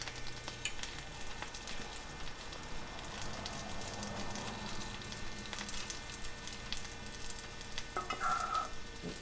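Potato pancakes fry in a pan, a faint, steady sizzle and crackle of hot oil with a few light scrapes, heard close and alone.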